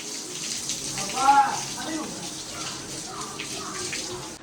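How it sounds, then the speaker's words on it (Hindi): Water splashes and gushes steadily across the floor as a house is washed down during Diwali cleaning, a continuous wet hiss with small surges throughout. "अब धुलाई हो रही है।"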